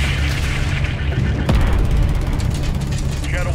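Missile impact explosion during a Call of Duty Modern Warfare 3 (2023) combat mission, a loud deep boom with rumbling aftermath under battle noise and voices.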